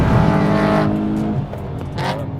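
Loud, close engine drone from a tuned BMW M3 E92 on a race circuit, strong harmonic tone easing off then picking up again as it accelerates, heard from on board without talk.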